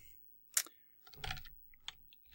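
A few short bursts of keystrokes as a comment is typed on a computer keyboard while giving feedback in Google Docs, quiet and close, with pauses between clusters of taps.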